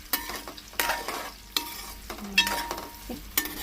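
Meal maker soya chunks fry in a pan of oil, with repeated bursts of sizzling and scraping as a spatula stirs them, several distinct stirring strokes over a softer background hiss, close up.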